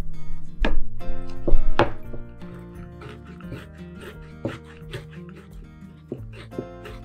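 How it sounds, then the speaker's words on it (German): Knife chopping 25 grams of candied orange peel into fine pieces on a board for orange cookies, a series of sharp, close taps, some louder strokes early and then quicker lighter chops, with background music. "Als nächstes hacke ich 25 Gramm Orangeat in feine Stücke."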